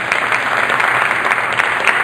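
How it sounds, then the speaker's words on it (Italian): Audience applause at a municipal police corps celebration, dense continuous clapping from a crowd close by, loud and steady throughout the short stretch. "Salutiamo naturalmente anche Gabriele con un grande applauso."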